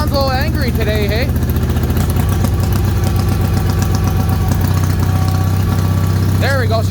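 Bolens HT-23 garden tractor engine idling on two cylinders, a steady, close chugging drone with a rough pulsing beat, while voices talk over it at the start and end.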